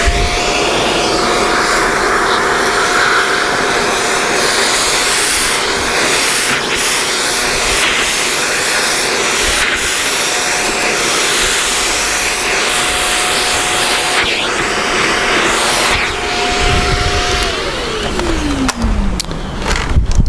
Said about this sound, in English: this is where your vacuum comes in.